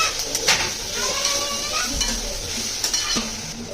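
Coarsely pounded spices fry in hot oil in a home kitchen, a soft steady sizzle broken by a few stirring scrapes and light clinks of a utensil against the pan, close and without talk.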